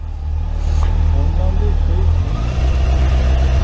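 A car engine runs steadily at low revs while the clutch is eased out during a driving lesson, a low continuous rumble with a slight change in pitch partway through, and a voice speaks over it.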